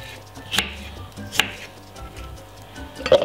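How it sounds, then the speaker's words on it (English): A kitchen knife chops cucumber into small pieces on a board, three crisp separate knocks spaced about a second apart, close and fairly quiet, with no talking. "all we're going to do is cut it up like this"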